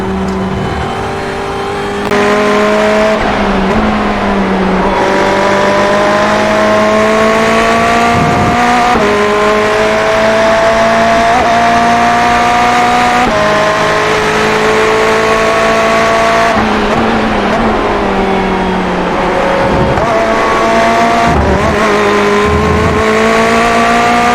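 Ferrari 488 race car engine screaming at Watkins Glen in the iRacing sim, a loud continuous drone that rises through the gears, drops sharply on shifts and braking, then climbs again.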